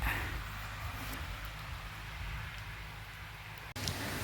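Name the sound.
rain falling during a sun shower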